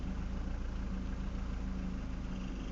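A diesel-type engine running on waste vegetable oil fuel idles steadily while warming up, a constant low rumble with an even hum, close and unbroken, with no talking.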